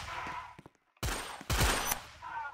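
Gunfire in a first-person shooter game, with loud bursts of shots in two clusters separated by a brief near-silent gap.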